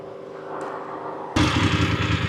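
Voge DS900X motorcycle on a cross-country ride, its engine a steady drone that jumps suddenly louder and rougher partway through, with wind and road rumble.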